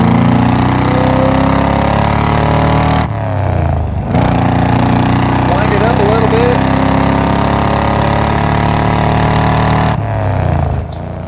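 A 1977 Chevrolet Corvette with a numbers-matching L82 350 V8 drones steadily on a test drive, its engine note falling as the gears are downshifted, with two brief dips between shifts and someone talking over it.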